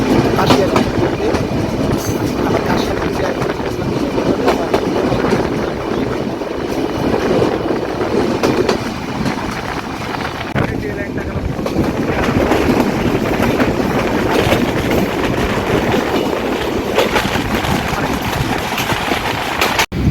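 The Benapole Express rolls along the rails, a loud continuous rumble with steady clickety-clack of wheels and heavy wind noise on the microphone throughout.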